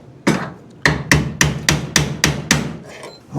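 A 4-pound hammer strikes a car's A pillar in a body shop, seven loud metallic blows at a steady rhythm, each ringing briefly before the next, heard alone without talk.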